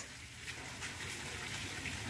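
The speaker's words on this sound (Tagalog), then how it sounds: "Nag-awas na ang tubig." Water overflowing from a filled drum, a steady broadband gush and splash that runs continuously and fairly faint, with no talk over it.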